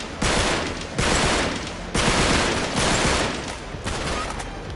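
Sustained automatic gunfire in the action game Uncharted, loud and close, coming in dense bursts of about a second each with tiny gaps between them and no talking over it.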